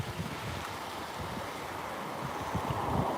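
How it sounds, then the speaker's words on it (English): Steady outdoor wind buffets the microphone with a low, continuous rushing roar that swells slightly toward the end. "Actually quite windy out here."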